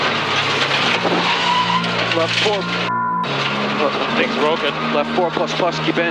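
A Subaru rally car with a broken suspension arm drives a Pacific Forest Rally stage, its engine revving hard and rising through gear changes, loud and close, with a narrator speaking over it.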